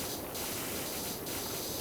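A pressure washer in the PowerWash Simulator video game hisses in a continuous, loud spray while cleaning a boat's control box and helm, with the texture briefly brightening twice.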